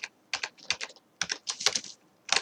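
Quick keystrokes on a computer keyboard while entering an Excel subtotal formula. Irregular clusters of crisp clicks and taps come in bursts with short pauses, quiet and close, with no talking.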